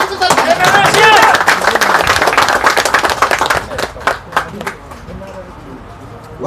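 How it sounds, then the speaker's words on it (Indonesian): Audience at a Pemuda Batak Bersatu certificate handover ceremony in Medan Amplas claps for the secretary, a loud burst of many hands that thins into scattered claps toward the end, with voices mixed in. "Tepuk tangan buat sekretaris."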